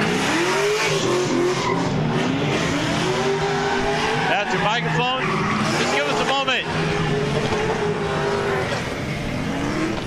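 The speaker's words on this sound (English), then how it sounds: "It gets really loud here with all the cars" Race cars roar and scream around the track at Palm Beach International Raceway, engines sweeping up and down with tire squeals, loud and continuous while a voice speaks close by.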